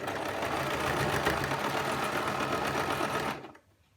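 A sewing machine stitches a bulky ruffled skirt fabric, running in a steady, continuous mechanical whir close to the microphone for about three seconds before stopping abruptly into near silence.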